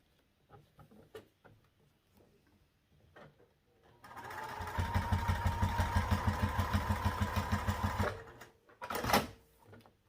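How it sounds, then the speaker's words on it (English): A sewing machine stitches down one side of fabric pieces in a steady, rapid run of needle strokes lasting about four seconds, with quieter handling noises before and a short burst after. "Sew down one side of each of them, and then we'll go back and do the other side."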